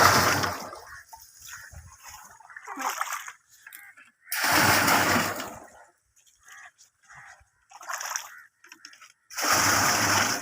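A stick stirs SOP fertilizer into water, throwing out loud sloshing splashes in several separate bursts with quiet gaps between them. A voice can be heard now and then.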